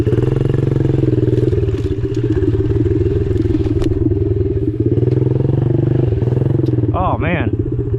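A small Yamaha PW50 pit bike engine revs and putters nearby with a throbbing, uneven drone, briefly rising in pitch near the end.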